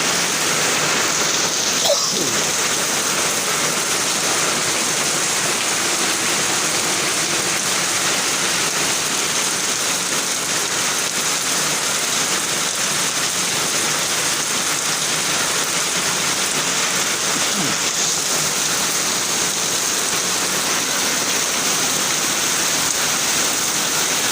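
Steady, dense rain pours down without letup, a constant hiss of heavy drops on surfaces filling the whole stretch, with no voices.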